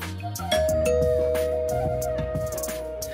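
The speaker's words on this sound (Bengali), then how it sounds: "Aniket calling bell বাজালো" A doorbell rings at a house door, a sustained chime tone ringing out over a dense musical background.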